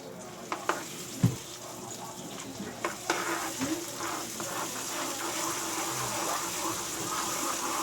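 Melting sugar for peanut brittle is stirred in a pan, giving a steady sizzling, scraping texture with a few sharp knocks of the utensil against the pan early on.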